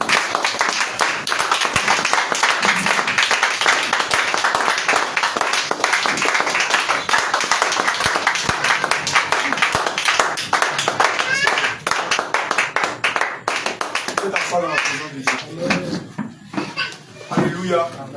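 A church congregation at an evening thanksgiving service claps rhythmically to acclaim the Lord, dense and loud, while a voice speaks over it and the clapping thins out toward the end.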